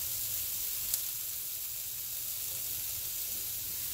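Carrot and potato fry with ground beef in a pan for picadillo, giving a soft, steady sizzling hiss that holds evenly throughout with no talking.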